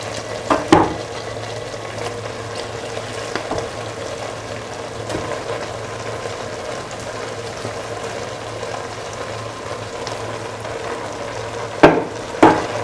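Rice being added little by little and stirred into a pan of cooked mung beans and potato, with a steady low simmering hiss, occasional spoon scrapes and a few louder clatters near the start and end.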